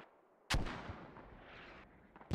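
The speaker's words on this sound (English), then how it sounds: "the Russian forces are putting mortars inside the compound" Mortar rounds firing in the military shooter game Squad, launched from inside a compound: one sharp, loud boom followed by a long rumbling tail, with a fainter second report at the very end.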